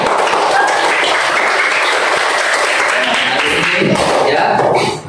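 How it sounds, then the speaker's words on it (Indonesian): Applause from a group, likely a class or children at an Indonesian teacher-training session, steady dense clapping throughout, with some voices mixed in and a tail-off at the end. "Ya, tepuk tangan dulu."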